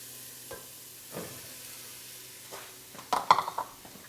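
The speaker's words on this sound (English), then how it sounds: "We're going to add the celery that we chopped up. We're going to add our onions." Chopped celery and onions go into a pot for South Carolina she-crab soup, with soft stirring scrapes and clinks, then a brief burst of sizzling and utensil knocks near the end; quiet, close and wordless.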